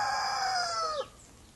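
A cockerel beside a polytunnel gives one loud, close, drawn-out crow that falls away sharply at the end, leaving quiet background.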